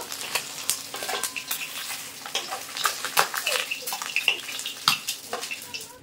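Catfish frying in hot oil, a busy crackling sizzle with dense spattering pops and occasional stirring scrapes, close and continuous throughout.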